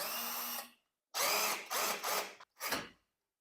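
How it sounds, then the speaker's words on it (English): A power drill drives a large screw into an IKEA PAX wardrobe panel in several short bursts of whirring, with brief pauses between them, loud and close, ending in a final short spin, with no talking. "grab one of these screws, the bigger ones, and like this, and just screw it"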